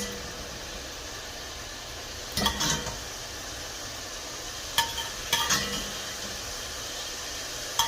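Onions and carrots with salt fry in rendered fat, a steady sizzle and hiss with a few scattered clinks and stirring scrapes over the top.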